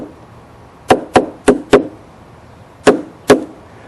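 Sharp hammer knocks against a chisel cutting corners into wood for a door lock, a group of four quick blows, a pause, then two more, close and crisp.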